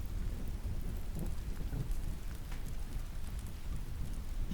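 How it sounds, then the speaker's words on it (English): Steady rain with rolling thunder fills the background as a continuous, even wash of sound, low rumbles swelling underneath without any break. "we can stick with our lovely rain"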